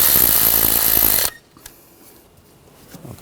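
A power driver whirs loudly as it drives a screw into the valve cover of a 2013–2019 Ford Escape with the 2.0L four-cylinder engine, running steadily for over a second before cutting off into quiet with faint clicks.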